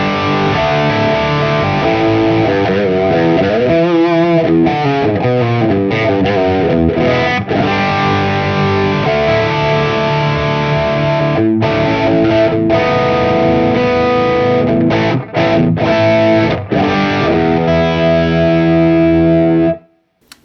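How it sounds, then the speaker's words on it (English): An electric guitar plays through stacked Tumnus and Clarksdale overdrive pedals, a loud, continuous, driven tone with sustained chords and quick runs that carries to an abrupt stop. "Now we have the Tumnus and the Clarksdale instead of the Tumnus and Euphoria."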